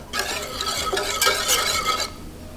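A spoon stirs a peach mixture in a pot, a steady close scraping swirl with light bubbling running continuously for a couple of seconds, no voices.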